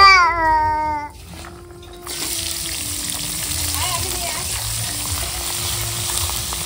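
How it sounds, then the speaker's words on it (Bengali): Onion frying in a pan on a home stove for a country-style meat curry, a steady sizzle running throughout after a brief tonal whine at the start. "পেঁয়াজটা ভাজা হয়ে গেছে"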